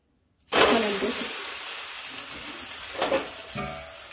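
A toast sandwich hits a hot pan greased with ghee after flipping, bursting into a loud sizzle that then holds as a steady hiss, with a couple of brief scraping stirs near the end.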